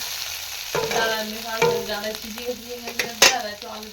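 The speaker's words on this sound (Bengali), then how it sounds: "আলু ভাজা হচ্ছে" Potatoes frying in a pan crackle and sizzle up close, broken by repeated metallic scrapes and clinks of a spatula stirring against the pan.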